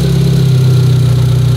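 Engine of a limousine on its first start after a fault, idling smoothly and loudly up close with a steady low hum and even pulsing throb.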